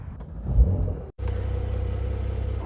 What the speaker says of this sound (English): You've got that very typical sort of 911 clack to the engine